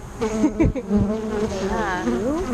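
Honeybees buzzing around a backyard beehive, a close steady droning hum with shifting wavering pitch as bees fly past, mixed with people talking nearby.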